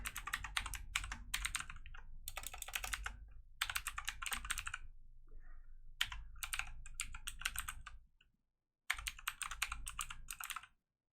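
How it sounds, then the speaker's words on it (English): Rapid bursts of typing on a computer keyboard, close and clear, with dense clattering keystrokes in several runs separated by short pauses and one brief silence near the end. "it's gonna make me type all that"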